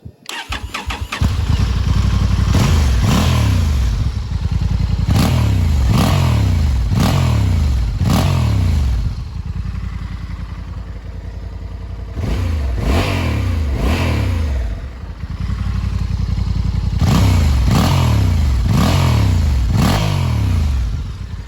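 A Honda Africa Twin CRF1100L motorcycle engine on its stock exhaust revs repeatedly, sharp rising blips with brief drops back to idle, loud and close.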